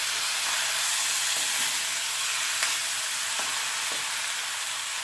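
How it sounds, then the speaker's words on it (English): Beef browning with onions in a hot pan gives a steady, close sizzle and frying hiss, with a few soft stirring scrapes and spatters breaking through the constant crackle. "I'm just going to brown the meat off"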